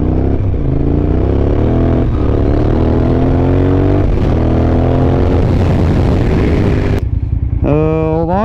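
A 2003 Yamaha TDM 900 motorcycle idles close by with a steady, deep, throbbing engine note, then revs sharply near the end, with talk heard over it.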